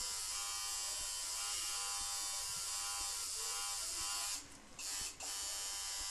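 An electric tattoo machine buzzes continuously and close while its needles work into skin, a steady high-pitched drone that briefly drops and wavers twice near the end.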